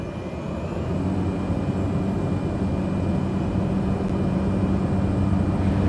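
Jet airliner in Microsoft Flight Simulator 2020 rolling down the runway for takeoff at Kota Kinabalu, a steady, loud engine roar that holds evenly throughout with no talk.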